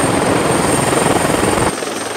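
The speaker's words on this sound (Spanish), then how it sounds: "nos desplazamos en helicópteros, tenemos 2 por base" A firefighting helicopter roars close and loud with a dense, steady rotor and engine wash that drops slightly in level near the end, no voices.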